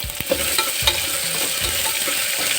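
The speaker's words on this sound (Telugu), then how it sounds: "ఉల్లిపాయ ఇక్కడ వేసుకొని ఫ్రై చేసుకోవాలి చక్కగా" Chopped onion frying in oil in a pan for a palak carrot khichdi, a steady close sizzle with a few scraping stirs of a spoon, no voices.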